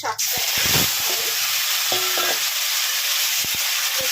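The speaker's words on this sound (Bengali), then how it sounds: "আমি একটু কালো জিরে দিয়ে দিলাম, আর দুটো দেখো শুকনো লঙ্কা দিয়ে দিলাম। দিয়ে আমি আগে ফোড়নটাকে একটু ভেজে নিচ্ছি।" Black cumin seeds and dried chillies crackle and sizzle in hot oil in a pan for a tempering, with a constant close hiss and scattered sharp clicks of a spoon stirring against the pan.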